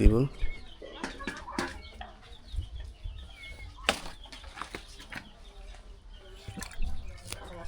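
Backyard chickens clucking and flapping their wings nearby, with scattered soft clucks and a burst of wing beats that come and go under a person speaking.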